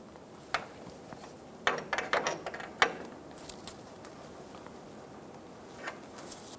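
Wrench tightening the power steering rack line fitting on a 2005-2015 Toyota Tacoma: a short run of faint metallic clicks and scrapes, a tight cluster in the middle and a few scattered ticks after, close by with no voices.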